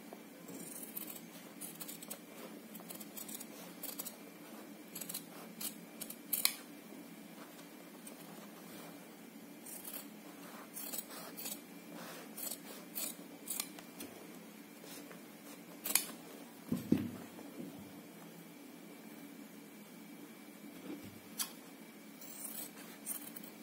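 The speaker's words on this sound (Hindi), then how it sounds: "कटिंग मैं आपको दिखाती हूँ कटिंग कैसे करनी है इसकी।" A paper draft for a neck design being cut with scissors: quiet, close snips and crisp paper rustles in an irregular rhythm, with a few sharper cuts standing out in a hushed room.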